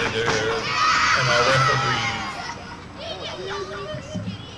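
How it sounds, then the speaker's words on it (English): A wrestling event crowd, many young voices shouting and cheering loudly in a swelling roar, with people talking over the noise. "Crowd very hyped up for this match."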